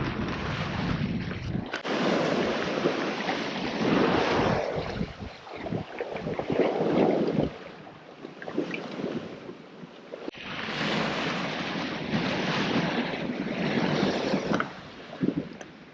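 A sailing yacht under full sail on a beam reach in about 15 knots of wind, with a steady rush of water along the hull and buffeting wind noise on the microphone throughout.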